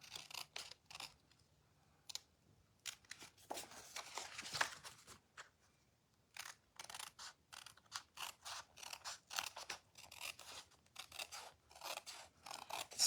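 Scissors trimming paper to fit a matching stamped card envelope, a run of crisp close snips in quick bursts separated by brief pauses, with no talking.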